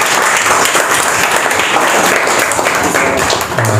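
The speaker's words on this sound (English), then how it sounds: "Clap for him as well." An audience at a school academy felicitation event applauds a student. Clapping is dense and continuous throughout and fades slightly at the end.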